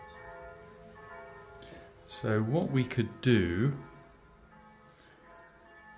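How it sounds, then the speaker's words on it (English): Church bells ringing at noon on a bank holiday, a faint, steady peal in the background while a person speaks briefly over it. "It's lunchtime, it's 12 o'clock, that's why the church bells are ringing."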